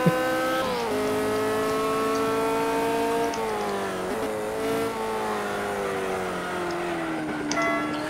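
A Ford GT40 in the Simraceway racing game drives steadily, its loud engine drone shifting pitch with gear changes and speed as it runs for several seconds without talk.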